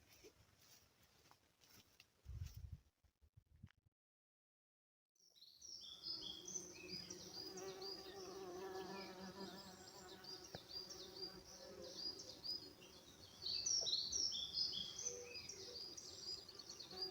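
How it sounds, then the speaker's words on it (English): Buzzing of insects, given as mosquitoes on a July night in the wet woodland of Misson Carr during moth trapping, drones steadily and faintly throughout after a brief silent gap, with high bird-like chirps layered on top. "It's a good night for mosquitoes again, I can tell you that."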